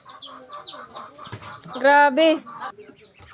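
A white chicken clucks in a rapid series of short calls, with one louder, drawn-out squawk near the middle. A person speaks briefly nearby.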